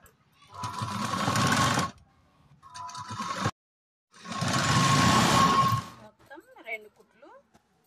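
A sewing machine stitches the bottom edge of a garment in two loud, steady bursts of rapid whirring, separated by a short pause, with someone speaking in between and afterward.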